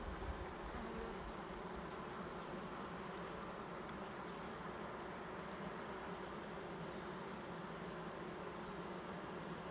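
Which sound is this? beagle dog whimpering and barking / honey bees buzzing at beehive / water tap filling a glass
honey bees buzzing at beehive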